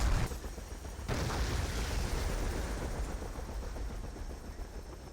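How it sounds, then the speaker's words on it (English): Battlefield 2 match with dense, continuous gunfire rattling under a steady roar of combat, light shots from Humvees on the ground amid a helicopter battle, sustained and fairly loud throughout. "I did see some light shots going out from the Humvees on the ground"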